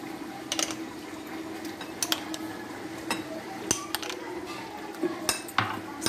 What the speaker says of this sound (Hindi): ऐड करके इसको अच्छे से मिक्स करेंगे, मसाला भरेंगे मिर्चों में